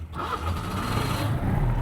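A Citroen Ami 6 engine fires up close by, its starter cranking briefly before the small motor catches and settles into a steady, low idle.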